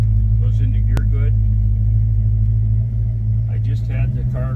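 A 1969 Mustang Cobra with a freshly rebuilt carburetor and recent tune-up runs at a steady, loud, low idle. Brief voices are heard over the close, continuous rumble.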